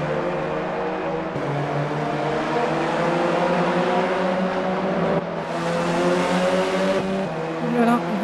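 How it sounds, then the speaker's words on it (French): Racing cars at a Grand Prix event roaring continuously up close, engine pitch rising and falling through gear changes, with a brief tire squeal as wheels lock under braking. "Vance qui a bloqué les roues"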